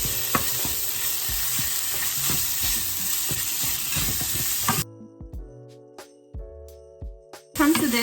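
Impossible meat fries and sizzles in a pan for about five seconds with stirring scrapes, then the sizzle cuts away to quiet, scattered clicks and clinks before a brief burst of frying returns.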